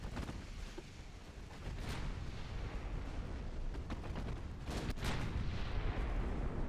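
Torpedo striking a warship in a naval combat video game, heard as a dull, muffled explosion with rumbling low-end wash and scattered blasts, fairly faint and steady over several seconds.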